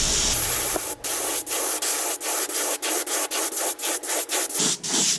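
An airbrush sprays pearl lime paint onto a fishing lure, a loud steady hiss cut into a rapid rhythm of short repeated bursts, heard up close with no talking.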